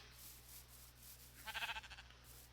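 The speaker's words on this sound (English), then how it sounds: "I got a sheep in here somehow." A Minecraft sheep bleats once inside a dim enclosed compound, a short, wavering, nasal call partway through over an otherwise quiet low hum.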